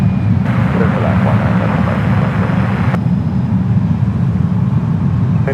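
An American Airlines jet landing on runway 19 left at San Francisco airport, a loud steady roar of engine and rushing air filling the whole stretch, with a faint voice beneath.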